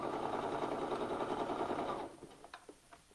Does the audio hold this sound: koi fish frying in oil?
no